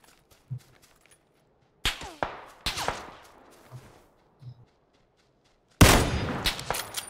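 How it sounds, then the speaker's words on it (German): Enemy gunfire in PUBG, sharp cracking shots arriving in irregular bursts, a few isolated pops, then clusters of rapid reports, ending with a loud close volley. "ich werde auch noch beschossen von den Ruinen"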